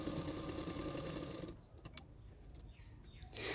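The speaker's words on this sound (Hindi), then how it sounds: "एक सिलाई किनारे किनारे पे कर रही हूँ" A sewing machine runs a seam along the edge of a double katori blouse, a dense steady motor whir for about a second and a half before stopping, followed by quieter handling sounds and a brief restart near the end.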